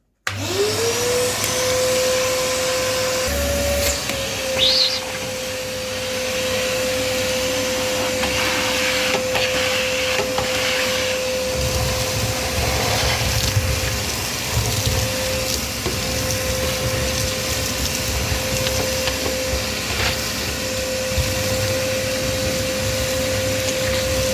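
A small vacuum cleaner cleaning out a fireplace runs continuously and loudly, its steady motor whine holding one pitch after spinning up, with occasional rattling debris sucked in and no talking.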